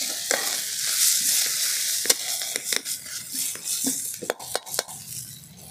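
Onions fry in mustard oil with a steady sizzle, broken by sharp scraping and clinks of a spoon stirring against the pan, close and without talk.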